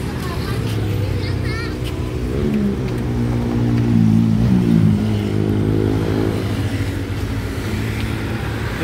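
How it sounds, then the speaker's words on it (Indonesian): Pelangi intercity bus approaching on a road in Aceh, its engine note building and swelling as it nears, with people talking over the traffic noise. "Bus"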